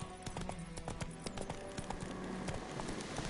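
The horse Roach gallops in The Witcher video game, a fast, steady clip-clop of hooves that sounds close and fairly quiet, with no one speaking.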